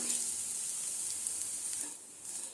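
Grated coconut sautéing in ghee for a zero-oil, no-sugar steamed stuffed snack filling, giving a steady, fairly close sizzle and hiss throughout that eases off briefly near the end, with no talking.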